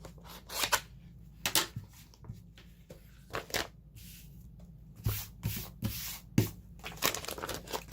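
Scissors trim adhesive lining paper for a mini album, giving a series of short crisp snips and papery crinkles in irregular bursts, close by and quiet between cuts.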